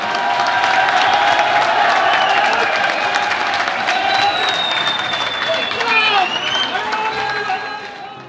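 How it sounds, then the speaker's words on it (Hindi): Loud, dense clapping and cheering from a crowd at a workers' rally in Delhi, with shouts and whoops rising over the applause before it fades near the end. "एक बार और जोरदार तालियों से आपको"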